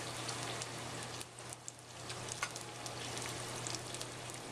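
Hands rinsed under running water in a kitchen, a steady hiss of flowing water with soft splashing spikes, fairly faint over a low constant hum.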